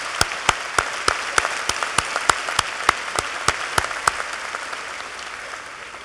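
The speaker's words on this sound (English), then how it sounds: "let's give a round of applause for those here today supporting the graduates" At a 2019 Quinnipiac University commencement, an audience claps for the graduates' supporters: sharp, evenly spaced claps stand out above a softer bed of applause that gradually fades.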